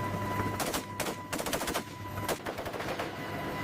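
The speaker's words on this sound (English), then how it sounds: "a crew member fires the .50 caliber machine gun at targets in the sea" A .50 caliber machine gun fired from the open ramp of a helicopter at targets in the sea, sharp bursts of rapid shots repeating in clusters over a steady rotor and engine drone.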